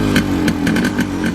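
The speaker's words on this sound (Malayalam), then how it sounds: "അതെ, യമഹ RX 100." A Yamaha RX100 two-stroke motorcycle engine revs loudly up close, with rapid pulsing throttle blips in a raspy, buzzing rhythm.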